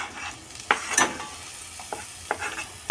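Tomatoes and onions fry in a pan for pasta, with a steady low sizzle under intermittent scraping stirs close by and no talking.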